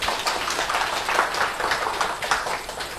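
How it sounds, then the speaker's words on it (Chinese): A continuous, fairly loud wash of audience applause welcomes two commentators to a televised Nongshim Cup Go match broadcast, with no break in the clapping. "那么现在呢，我们就掌声来请出两位"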